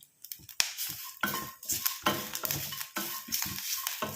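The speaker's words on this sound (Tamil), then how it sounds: "எந்த அளவுக்கு ஃப்ரை ஆகுது பாருங்கள் இந்த தேங்காயில் வந்து இப்போயே ஆயில் வர ஆரம்பிச்சிருச்சு" Coconut pieces fry in hot oil in a pan while a utensil stirs them, giving steady close sizzling with repeated scraping and clinking of the spoon against the pan.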